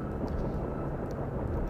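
A Venom helicopter in Battlefield 3 makes a steady, muffled rotor and engine drone with a faint rhythmic chop over a low rumble, constant throughout and moderately distant.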